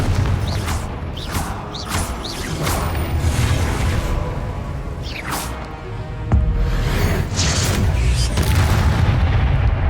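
Confringo blasting spells from Hogwarts Legacy going off repeatedly, with several deep booms and whooshes over a dense rumbling game soundscape; the loudest blast hits around the middle.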